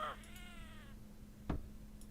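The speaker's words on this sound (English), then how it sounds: "The cat sound." A cartoonish cat meow plays as a sound effect during a tabletop role-playing session: one short, quiet meow at the start, then a single soft knock a moment later against faint background hum.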